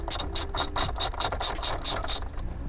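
Ratchet with a magnetic socket loosening a 10mm bolt inside a Toyota car, about ten sharp, evenly spaced clicking bursts, close and loud with no talking.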